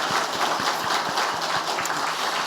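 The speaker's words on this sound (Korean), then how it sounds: "아낌없는 열렬한 환영과 축복의 박수를 부탁드리겠습니다" A church congregation applauding, a steady wash of many hands clapping at a moderate distance, even and continuous throughout with no voices over it.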